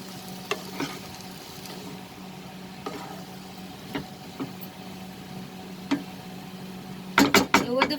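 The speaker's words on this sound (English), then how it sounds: "Let me mix the salt first." Spatula stirring salt into long beans and chicken in a pan, sparse scraping strokes over a steady low hum, ending in a quick burst of louder clattering stirs.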